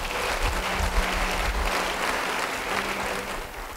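A church congregation claps in steady, dense applause that carries on for nearly four seconds, with a low hum beneath the clapping.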